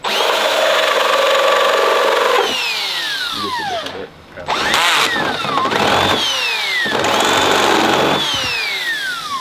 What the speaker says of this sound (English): So now that we have all of our holes drilled for securing the actual snorkel